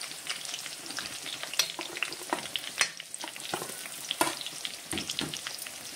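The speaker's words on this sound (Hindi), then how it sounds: "देखिए फ्राई होकर रेडी हो चुका है चिकन रोस्ट" Chicken roast fries in a pan with a steady crackling sizzle, broken by sharp scraping clicks of stirring, close and moderately quiet with no voices.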